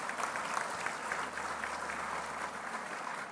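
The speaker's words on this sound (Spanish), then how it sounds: "Un aplauso para el querido Colorado." A crowd at a university ceremony in a national stadium gives sustained applause, an even, distant-sounding roar of many hands clapping without a break.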